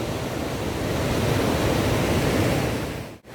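The Mandakini river on the Kedarnath trek rushes with a loud, steady broadband roar from close by, unbroken and with no voices.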